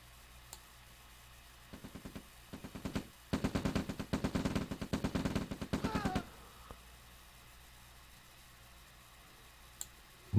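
Rifle fire in a real-time strategy video game match: scattered shots build into a rapid, dense burst of gunfire for a few seconds, then trail off into isolated shots, moderately loud with no talking.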